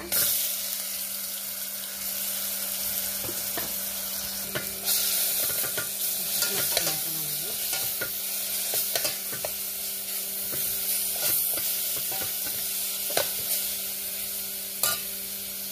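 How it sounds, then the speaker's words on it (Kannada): Coarse spice masala roasting in ghee in a pan for an avarekalu (field bean) kurma, a steady close sizzle with scraping spatula stirs and occasional clinks throughout, no voices. "ಚೂರು ತುಪ್ಪ ಸರಿ ಮಸಾಲೆ ಸರಿ ಫ್ರೈ ಆಗಬೇಕು"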